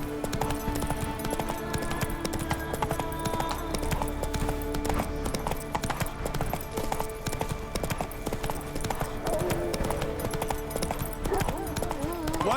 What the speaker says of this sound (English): How's this? Run, Roach.